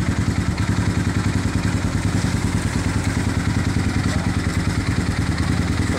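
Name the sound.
Honda XR 200 motorcycle engine running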